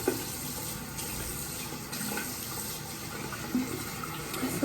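Water from a tap runs steadily while something is rinsed off under it, a faint continuous splashing hiss with small bumps and no talking.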